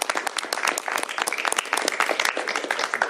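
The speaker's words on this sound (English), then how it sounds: "Give her a big round of applause as we sign this into law" A crowd at a state bill signing for a new law applauds with dense, steady clapping that fills the whole stretch at moderate loudness.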